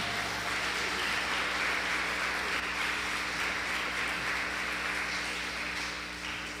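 A church congregation applauds during a service, sustained dense clapping filling the whole stretch at an even level with no voices on top.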